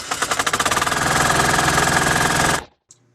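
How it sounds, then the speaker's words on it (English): A 2019 Easy Lift 70-36AJ lift engine cranks with rapid rhythmic pulses, catches into a loud steady clattering idle, then cuts off suddenly, leaving near silence. "By putting key to 2 position, the engine will start."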